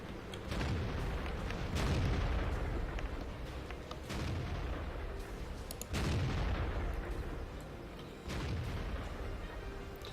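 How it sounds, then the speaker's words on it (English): Tank cannon shots fired at long range in World of Tanks, four heavy booming blasts spaced a couple of seconds apart, each with a rolling, decaying tail over constant battlefield rumble. "So we're firing some long-range shots at M48 Patton"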